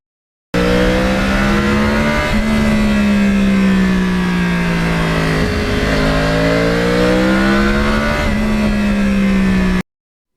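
A Yamaha R1 crossplane motorcycle engine while riding, a loud, steady, close engine note that rises and falls with throttle changes, with one brief dip in revs midway, and no talking over it.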